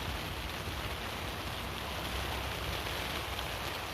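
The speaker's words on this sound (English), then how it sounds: "It's raining." Steady outdoor rain falls in a cold setting, a dense, even hiss of drops on surfaces that holds unchanged for several seconds, soft and diffuse with no voices.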